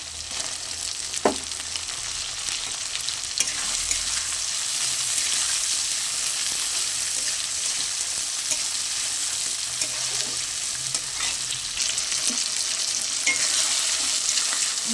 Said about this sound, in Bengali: আদা রসুন বাটা পেঁয়াজ একটু ভালো করে ভেজে নেব